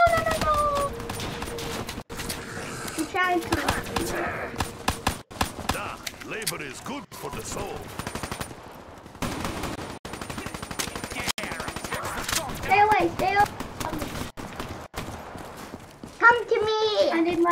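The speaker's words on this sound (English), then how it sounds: "machine gun" Rapid machine gun fire in a zombies video game crackles in repeated bursts through the round, mixed with other game effects while children talk excitedly over it.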